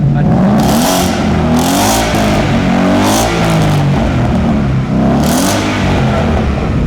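A Ford Mustang engine revs hard through a loud, deep aftermarket MF exhaust, with several rising and falling throttle blips close by.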